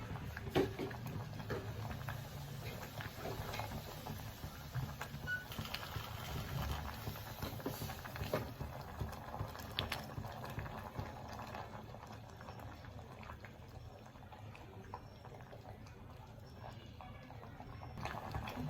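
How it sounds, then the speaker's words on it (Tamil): A pot of curry bubbles and blips steadily at a low level, a continuous soft gurgling simmer with faint background noise and no talking. "நல்லா கொதிக்கிறது."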